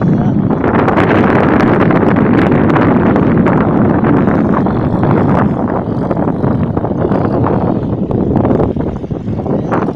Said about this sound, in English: This is the famous place in Karachi.